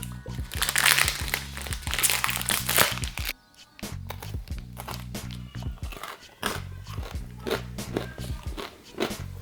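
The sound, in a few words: biting into a crunchy chocolate protein bar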